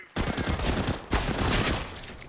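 A flashbang grenade thrown in the CS:GO video game: two loud, sharp bursts land close together and ring out briefly, with no talk over them.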